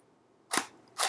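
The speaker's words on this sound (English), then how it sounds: "So you can press the shutter button right there." A camera shutter fires twice alongside a Godox V1 wireless flash, two crisp, close mechanical clicks about half a second apart over a faint background hiss.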